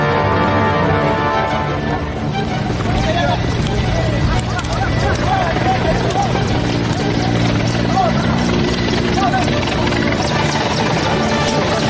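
A military helicopter lands in torrential rain, its dense, loud rotor and engine roar steady throughout with a constant wash of noise and a voice talking over it.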